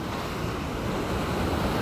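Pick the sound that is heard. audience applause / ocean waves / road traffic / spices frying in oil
ocean waves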